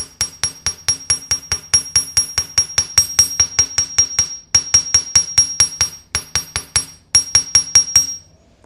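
Hammer striking copper wire into a curve on a metal block, a fast run of sharp ringing metallic taps with a bright pinging tone, close and loud, pausing briefly twice before continuing.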